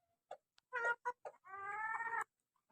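Chickens clucking close by on a poultry keeper's premises, a few short separate clucks followed by a longer drawn-out cackle, then quiet.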